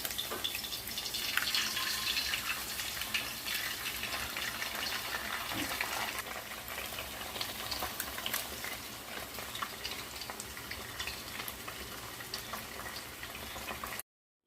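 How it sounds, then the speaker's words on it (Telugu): Green chillies frying in hot oil in a pan, cooked for egg fried rice: a continuous close sizzle with fine crackling pops, steady and fairly quiet throughout, with no voices. "ఆయిల్ హీట్ ఎక్కిందండి, పచ్చిమిర్చి వేసుకుని వేగనివ్వాలి"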